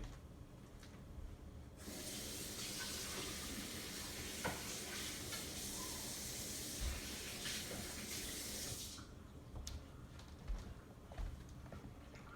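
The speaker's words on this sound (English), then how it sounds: "I'll just rinse the blade for my next smoothie." Running tap water rinses a Vitamix blender blade, a steady broadband hiss that starts abruptly, runs for about seven seconds and cuts off, with light clinks and handling noise before and after.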